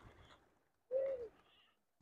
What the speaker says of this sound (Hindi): ये कबूतर को दाना डाल रहे हैं